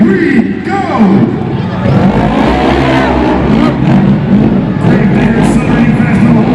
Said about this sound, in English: Gravedigger accelerating fast on the whole shot.